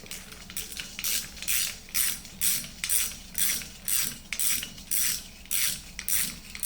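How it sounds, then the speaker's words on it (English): Ratchet turning out a rusted, rounded hex fastener, a close, steady run of rasping clicks in regular back-and-forth strokes, about eleven pulls with no talk. "now we can grab our ratchet and loosen it up."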